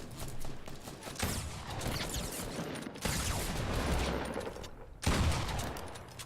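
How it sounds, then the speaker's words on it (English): Fortnite gunfire rings out as a few sharp, loud shots and short bursts about two seconds apart, over a dense, noisy game ambience. "Oh, we just heard a shot back there."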